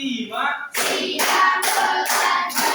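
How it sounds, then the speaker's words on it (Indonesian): A group clapping hands together in a counted rhythm, several distinct bursts of claps spaced about half a second apart, with a voice at the start before the first burst. "Tepuk 1, tepuk 2, tepuk 3, tepuk 4,"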